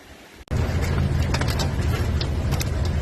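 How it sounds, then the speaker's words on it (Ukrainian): Hail pounds on a parked car during a sudden storm in the woods, a dense loud drumming that starts abruptly after a short quiet moment and keeps up steadily with sharper individual hits. "О, який град лупить"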